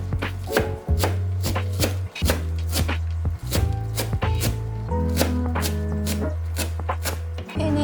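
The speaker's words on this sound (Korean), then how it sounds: "부추를 썰어주세요." A knife chops green onion and chives on a board for steamed clams, a quick run of crisp, evenly spaced taps with brief pauses, set against steady background music.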